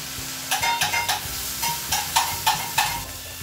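Carrots fry in oil in a pan, a soft sizzle under a quick run of spatula scrapes and taps against the metal, close and without talk.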